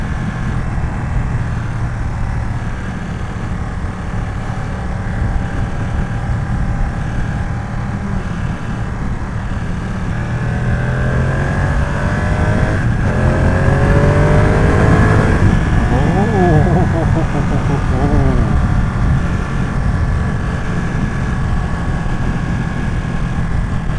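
A Ducati V2 motorcycle engine drones steadily on a short Sunday ride, a continuous loud hum that swells and shifts pitch midway as the bike accelerates, with wind rush throughout.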